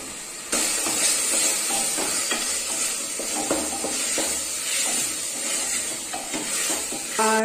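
Potatoes going into a pan of chicken curry masala with a little water, giving a steady close hiss and sizzle with scattered scraping and clinks of a spoon against the pan throughout.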